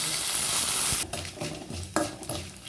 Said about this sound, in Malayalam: കടുക് കൂട്ടി അരിയും വറ്റൽമുളക് ഇട്ടു അപ്പോൾ അതൊക്കെ മൂത്ത് വന്നപ്പോഴേക്കും കുറച്ച് കടുക്